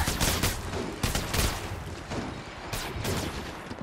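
Rapid bursts of gunfire from the mobile battle-royale game Apex Legends Mobile, dense and loud, firing in clustered volleys with short gaps, with no talk over it.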